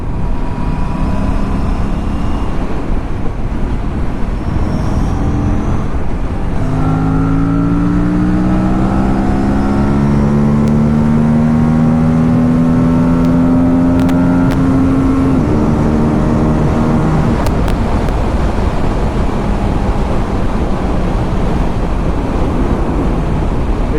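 An RS457 motorcycle accelerating on the road, its engine note rising steadily through the revs with clear upward-sweeping tones, under constant loud wind rush and road roar from the rider's position; no talking.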